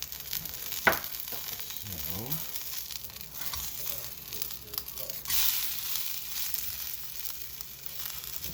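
An onigiri rice ball brushed with a savory glaze sizzles steadily in a hot pan, with a brief scrape and a flip partway through and a louder burst of frying after it.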